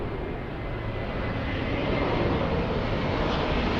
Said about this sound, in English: this is the last takeoff on 24 right